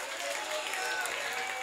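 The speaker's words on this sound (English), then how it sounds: "Come on, clap your hands everywhere and let's just shout a hallelujah." A church congregation at a Wednesday fasting service held at a train station claps and applauds together, a continuous moderate wash of hands with some voices mixed in.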